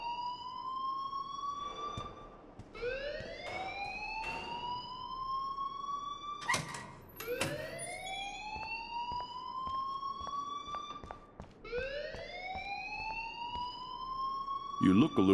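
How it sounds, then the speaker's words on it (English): A wailing siren-like alarm in the video game Life Is Strange rises and sweeps repeatedly in loud, rising whoops roughly every two to three seconds, with a brief burst of noise in the middle. "please turn off that alarm since that's your job"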